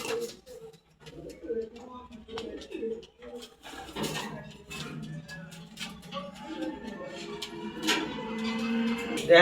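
Racing male pigeons cooing in a loft, repeated soft throaty coos in uneven bursts, close by, with faint background clicks and a voice speaking in places.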